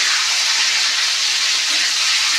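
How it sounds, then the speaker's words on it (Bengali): Pointed gourd (potol) fries in a pan with a dense, steady sizzle, loud and close, hissing continuously without any talk. "পটলগুলো ভাজা হোক"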